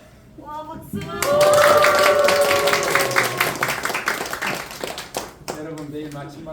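Clapping from the congregation at an end-of-semester worship service at a university in Jeonju, a burst of applause that rises quickly and then fades as voices speak over and around it.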